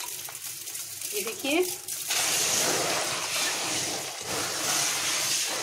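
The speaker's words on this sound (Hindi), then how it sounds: "अब हम फिर से पानी भरेंगे।" Water is poured back into a home aquarium during cleaning. It starts as a louder, steady gushing rush partway through, after a short stretch where a person speaks over quieter water sounds.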